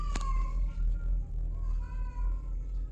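A cat cries out in distress at midnight in a home, with a sharp close meow near the start, then drawn-out wavering wails over a steady low hum, no voices.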